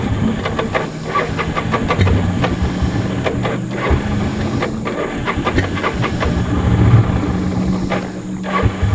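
A Honda 300 engine on a test build runs roughly, sputtering with an uneven, rattling, clattering rhythm that stays loud and close throughout, with no speech.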